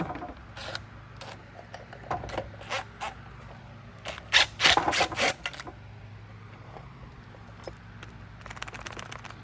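A 7/16 socket ratchet turns a nut on the shaft of a Riccar Supralite vacuum during a teardown, giving close, quick bursts of clicking that come in short irregular runs with pauses between them.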